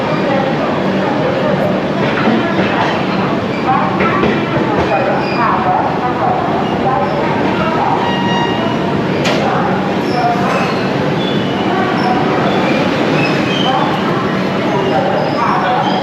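The Upasana Express pulls into Asansol station on its run from Howrah, a loud, steady rumble of rolling train cars heard from inside, with faint voices mixed into the noise.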